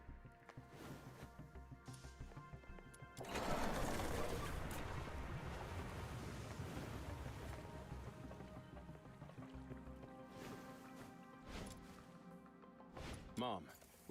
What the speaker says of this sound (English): Let's drain the water and search the entire section.